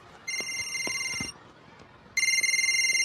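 A telephone rings in a Hindi Bollywood film scene, two bursts of bright electronic trilling separated by a short pause, loud and close over faint background sound.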